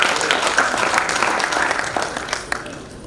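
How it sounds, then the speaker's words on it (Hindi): Loud, dense applause from a large audience at a poetry gathering, steady for about three seconds before thinning slightly at the end. "तालियां हों"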